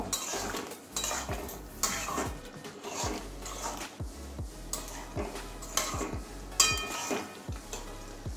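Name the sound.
stirring soybean and sweet potato curry in a pan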